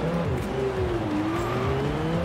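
A V10-engined BMW in Forza Horizon 4 drones loudly and steadily, the engine note sliding gently up and down with throttle over a short, continuous run.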